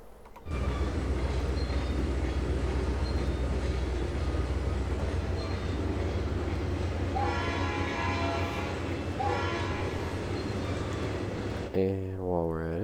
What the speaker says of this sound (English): Because we gotta have a train running somewhere along here.